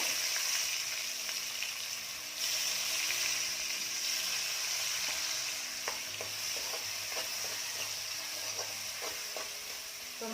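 Finely chopped tomato sautés in Kolhapuri onion-garlic masala for a Malvani egg curry, a soft continuous sizzle broken by a series of stirring clicks and scrapes against the pan.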